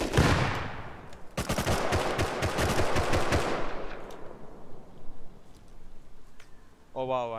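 Scientists and players trade fire in the tunnels in Rust, with loud, rapid machine-gun bursts giving way to scattered distant shots and people talking over the fight.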